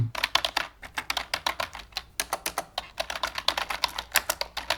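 Rapid keystrokes on a computer keyboard typing into a search bar, close and crisp, with irregular bursts of clicks and short pauses between words.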